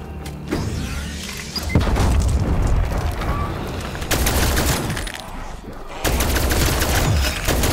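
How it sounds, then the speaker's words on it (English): C4 charges detonate during a boss round on Firebase Z in Call of Duty Black Ops Cold War zombies, heavy booming blasts and bursts of gunfire filling the scene loudly, with abrupt cut-offs between dense explosive stretches. "C4 armed."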